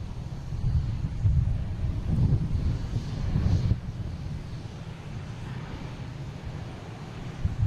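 A Cape Air plane in rainbow livery departs Boston Logan airport, its engine a steady distant rumble swelling slightly and then easing off, with wind noise across the microphone.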